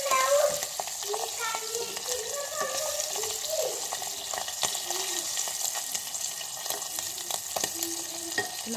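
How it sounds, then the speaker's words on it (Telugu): Dry fish fries in a pan with a continuous bubbling sizzle and scattered clicks, near and steady, with faint background voices. "రిమైనింగ్ కూడా నేను అలాగే ఫ్రై చేస్తాను."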